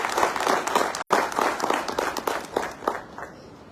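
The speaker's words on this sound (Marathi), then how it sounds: "आपल्या धाराशिव जिल्हावासियांच्या टाळ्यांचा कडकडाट" Lively audience applause at a Dharashiv Foundation inauguration ceremony, dense clapping from a crowd that briefly breaks off, then continues and gradually thins out and fades.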